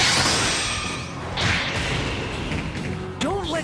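A Typhoon Explosion ability attack in the video game Bakugan: Defenders of the Core, with whooshing sweeps and heavy thuds across a few seconds, then a sharp swishing burst near the end.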